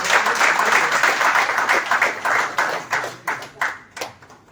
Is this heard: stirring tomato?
no